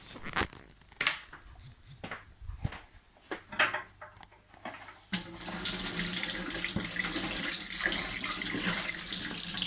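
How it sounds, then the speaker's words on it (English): Water runs steadily from a cold tap in a loud continuous hiss after several seconds of clicks and handling noises. "I'm just going to put it under the cold tap."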